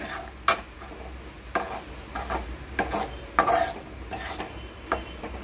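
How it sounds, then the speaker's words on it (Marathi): Semolina (rava) roasting in ghee in a kadhai, stirred with a spoon that scrapes and taps the pan in an irregular rhythm over a faint steady sizzle, close by with no talking. "आता आपण रवा भाजून घेत आहोत।"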